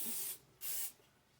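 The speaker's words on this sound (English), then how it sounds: "I'm going to have to spray my cookie sheet with Pam" Pam cooking spray hisses onto a cookie sheet in two short bursts, close and bright, separated by a brief pause, with quiet kitchen air between and after.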